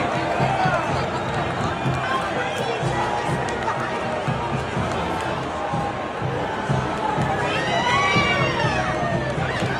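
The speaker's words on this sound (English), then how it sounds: "President Trump, when he sees the crowd, you can hear it. Listen to the cheers." A large stadium crowd at a national championship football game cheers and roars continuously, a dense wash of shouting with rising whoops near the end.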